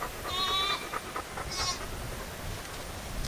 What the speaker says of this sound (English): You got a goat missing its mama, crying for its mama.